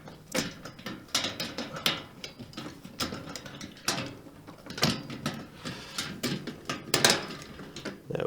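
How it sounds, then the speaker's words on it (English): Closed end nuts being tightened with a long spanner and Allen key while assembling a three-tier storage trolley, a close run of irregular metallic ratcheting clicks and small clanks with no talking. "screwing on closed end nuts using the long spanner and Allen key to tighten"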